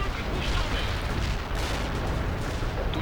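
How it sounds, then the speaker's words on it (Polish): Maximum-strength artillery bombardment in a strategy video game, a continuous dense barrage of booms and blasts that blurs into a loud, unbroken roar with no pauses. "pokażę wam jak wygląda ostrzał artyleryjski z maksymalną siłą."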